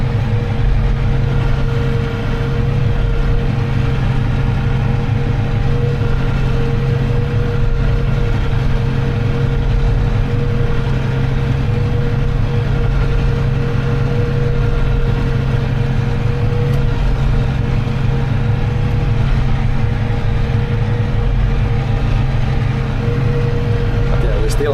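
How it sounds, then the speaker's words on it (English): An old farm tractor engine idles steadily with a constant low rumble and a faint tonal hum, loud and close throughout with no break. "probably some tractor noises being heard"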